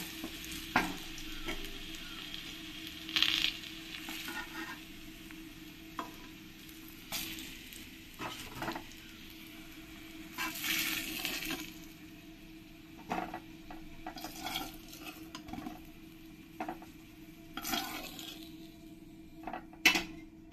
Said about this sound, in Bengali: আমার আলুগুলো দেখো ভালো করে লাল লাল করে ভাজা হয়ে গেছে।